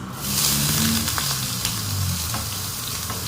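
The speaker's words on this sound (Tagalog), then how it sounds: "ilalagay na natin yung bawang at sibuyas na sauté" Onion sautés in hot oil with a bright, steady sizzle that flares loudly at first and settles into a continuous crackle, stirring sounds faintly underneath.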